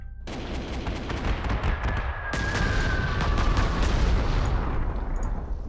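An air bombing attack in the wartime strategy game Panzer Corps: two loud, close blasts, the second heavier, each followed by rolling rumble and crackling debris.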